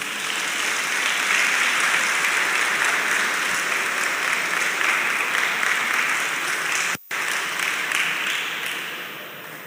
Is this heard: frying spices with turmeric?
no